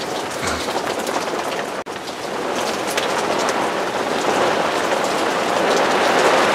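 Steady rain falls during a thunderstorm, heard from a back step outdoors as a loud, constant hiss of drops that swells slightly toward the end.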